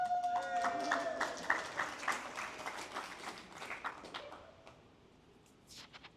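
Applause breaks out from the audience at a Hendricks County Democrats monthly meeting, a dense patter of clapping with voices mixed in, loud at first and then thinning out into scattered claps near the end.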